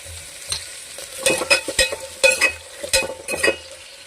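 Small onions are lightly sautéed in a kadai for peerkangai kadaiyal, with a soft sizzle under a run of close, rhythmic spoon scrapes and knocks against the pan.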